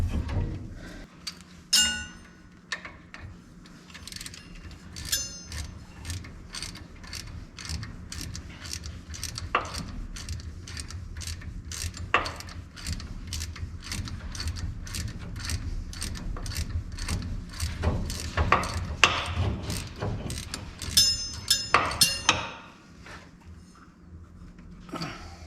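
Metallic clicks, ratcheting and clinks come in quick irregular bursts while the brake caliper is worked off a 1971 Ford LTD, close and distinct over low background hum, with one louder clatter near the end.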